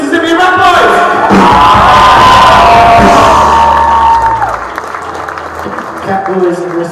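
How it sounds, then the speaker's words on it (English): Concert crowd applauding and cheering at an indie rock show, loud clapping with whoops and shouts that swell and then fade, followed by someone speaking over the thinning applause. "Please keep that muted applause going"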